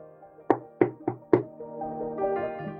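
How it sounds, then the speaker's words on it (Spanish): Four sharp, close knocks on a door in an uneven rhythm, followed by a soft lingering tonal background, with no talking over them. "llamó a la puerta de los 7 enanos"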